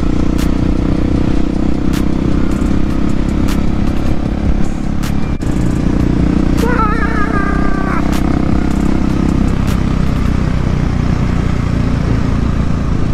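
A motorcycle engine rumbles loudly and steadily for the whole stretch, a dense, constant drone with faint clatter on top and no clear rise or fade of a pass-by.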